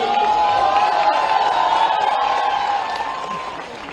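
Audience at a state-level youth festival applauds a young folk singer, a dense steady wash of clapping and crowd noise that slowly fades, with a tonal voice or sound running underneath.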